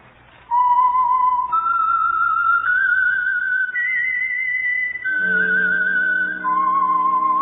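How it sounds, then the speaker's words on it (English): Solo whistled theme signal for the radio program The Whistler, a clear, loud melodic tune moving up and down over several seconds, joined near the end by low orchestral backing. "That whistle is your signal for the Signal Oil program, The Whistler."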